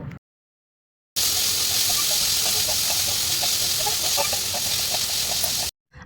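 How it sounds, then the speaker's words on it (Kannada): Onion and green chillies frying in a pan give off a loud, steady sizzling hiss with faint crackles that runs unbroken for several seconds, with short silent gaps at the start and end. "ಸೊ ಇವಿಷ್ಟನ್ನು ಚೆನ್ನಾಗಿ ಫ್ರೈ ಮಾಡ್ಕೊಳ್ಬೇಕು."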